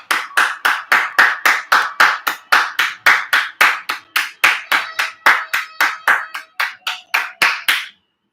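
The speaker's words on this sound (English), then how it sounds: "there's the clapping" Rhythmic, evenly spaced clapping rings out at a steady tempo, roughly two dozen sharp, bright claps in a row, close and loud in a gym, stopping abruptly.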